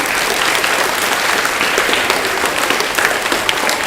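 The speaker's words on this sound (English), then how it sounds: "Can you guys give yourself a round of applause for that?" Students applaud themselves at a school library event, a dense, steady burst of many hands clapping together, loud and continuous throughout with no talk over it.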